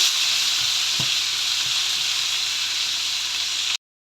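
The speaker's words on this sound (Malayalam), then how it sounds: "ഇവിടെ പിള്ളേർക്ക് ഭയങ്കര ഇഷ്ടമാണ് ഈ പറഞ്ഞ മുട്ട ഇങ്ങനെ ചിക്കി എടുക്കുന്നത്." Beaten egg is scrambled in a hot pan, a loud continuous sizzle close up with a few soft stirring knocks, ending abruptly.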